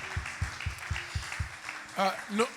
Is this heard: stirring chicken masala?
no